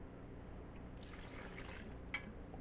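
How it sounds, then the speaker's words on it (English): Sauce pours onto potatoes in a hot pan for German potato salad, a soft liquid trickle and faint sizzle rising midway over a steady background hiss, with one brief clink near the end; no talk. "So first thing we do is we pour our sauce in"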